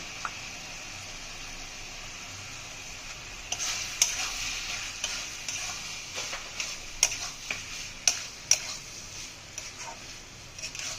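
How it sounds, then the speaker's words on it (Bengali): Rice paste being stirred into a banana flower and prawn curry in a pan, with a soft continuous sizzle under irregular scraping clicks of the spoon that grow sharper and more frequent partway through, close and moderately quiet with no talk. "চাল বাটাটা দিয়ে কিন্তু সঙ্গে সঙ্গে নেড়ে দেবেন"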